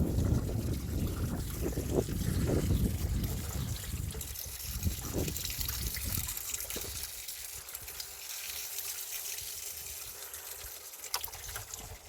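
Coolant trickles and splashes steadily as it drains from a Peugeot 207 engine, with some low rumbling knocks early on, then settles into a quieter continuous dribble with no voices.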